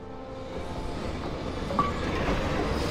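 A train rolling along in the video game Gorogoa, a steady rumbling rail drone with a brief metallic squeal partway through, heard alone.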